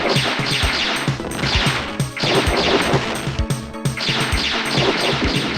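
Arcade-section game audio from a Japan-only PlayStation 1 title: a loud, dense run of repeated crashing, smashing hits with sharp thwacks in a steady busy rhythm, continuous with no speech over it.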